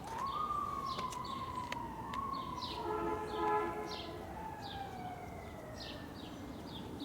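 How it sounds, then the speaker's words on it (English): A wailing siren sweeps slowly up and down at a distance, joined by a second siren's higher rising whoops, all over a steady low background rumble. "What's with all the sirens today?"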